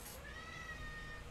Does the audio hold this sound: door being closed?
no